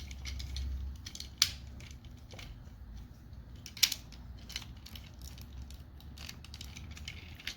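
Plastic pieces of a Transformers Kingdom Voyager Class Inferno figure click and snap into place, giving faint scattered clicks with two sharper snaps in a quiet room.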